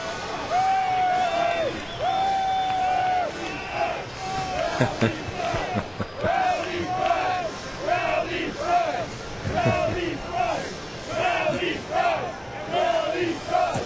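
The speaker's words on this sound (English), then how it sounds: "There's the cheer." Crowd cheering at a Major League Baseball game, Toronto at Seattle in 2009, a loud, sustained stadium roar with rising swells that carries on throughout, while a broadcaster's voice talks over it.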